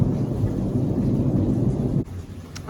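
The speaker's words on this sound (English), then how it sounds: "I like the thunder, but the lightning is so blinding." Low rumbling thunder during a lightning storm, a loud sustained roll lasting about two seconds before it cuts off, heard alone without talk.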